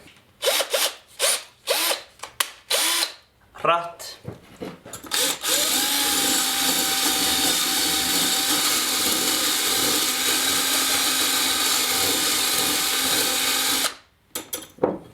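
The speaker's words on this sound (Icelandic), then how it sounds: "Svo er það bara borvélin." A few short clattering bursts, then a power drill whirs steadily for about eight seconds as it churns thick mayonnaise, stopping abruptly.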